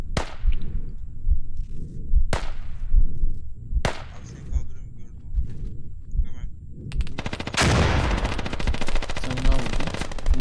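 Bursts of automatic gunfire in the tactical shooter game Squad: several sharp single shots spaced a second or two apart, then a long dense rattling burst near the end, with players talking over the shooting.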